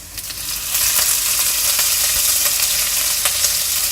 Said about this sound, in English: Now I'm going to add in the green chilies